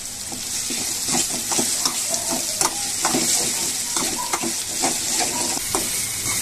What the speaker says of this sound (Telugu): మనం మీడియం ఫ్లేమ్లో పెట్టి వేపుకుంటే బాగా వేగుతుంది.